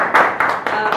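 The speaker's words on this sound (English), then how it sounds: "Give yourselves a round of applause." Brief burst of audience applause at a public seminar on self-care interventions in Malaysia, a few loud swells of clapping over about a second with mixed voices underneath.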